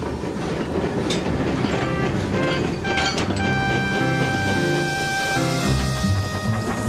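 Animated cartoon steam engines pull away along the track, with steady rolling clickety-clack of wheels and rail noise, plus faint whistle-like tones partway through, loud and close.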